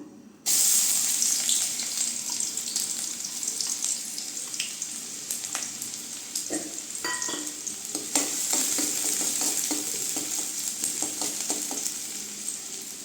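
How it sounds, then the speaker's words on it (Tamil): Onions frying in hot oil in a heated kadai for Tamil egg rice, a loud steady sizzle kicking in abruptly near the start and holding, with scattered clicks and stirring scrapes, no talking. "வடச்சட்டி சூடானதை எண்ணெய் ஊற்றிக்கிட்டேங்க இப்போ வெங்காயம் போட்டுக்கலாம்"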